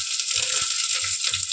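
Crushed garlic hits hot oil already holding mustard seeds and curry leaves for a South Indian tempering, setting off a loud, steady, close sizzle with faint low crackles and pops underneath.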